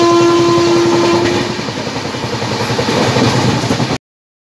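A train pulling into Dhanbad station in Jharkhand, loud and close: a long horn blast at the start over steady rumbling and rhythmic clatter of wheels on rails, running alone without voices.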